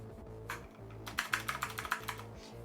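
Fingers type on a computer keyboard in an irregular run of crisp clicks, a few isolated keystrokes followed by a quicker burst, close-up and moderately quiet, with no talking.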